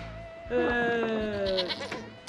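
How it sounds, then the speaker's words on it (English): A goat bleats loudly up close with a wavering, drawn-out cry lasting about two seconds, alone without talk. "Mind my goat on the way out, eh?"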